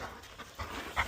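A dog pants quietly in short, soft breaths close by, with a brief louder puff near the end and no talk over it.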